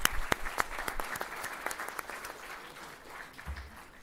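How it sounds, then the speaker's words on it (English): An audience at an electricity authority event gives a speaker a round of applause, distinct sharp claps in a steady patter that slowly thins out, with a brief murmur of voices near the end. "Big round of applause for Dr. Grover."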